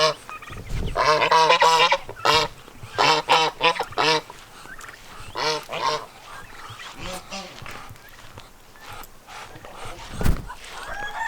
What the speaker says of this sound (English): And look at those two muddy geese.